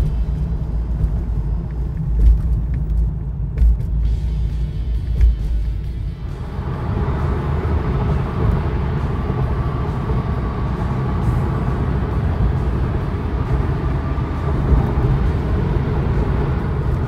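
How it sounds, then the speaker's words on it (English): A right-hand-drive imported 1993 Toyota Supra drives on the street, its engine and road noise a steady, close, rumbling drone that stays loud throughout with no talking. "Show you a quick drive here, how it performs on the street and highway."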